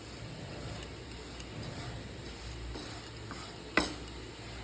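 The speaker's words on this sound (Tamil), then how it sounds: "இப்போ இதை நல்லா மிக்ஸ் பண்ணி வறுத்துக்கிறேன்." Semolina (rava) stirred and roasted dry in a pan for rava barfi, a steady soft scraping and rustling throughout with one sharp clink of the spoon against the pan near the end.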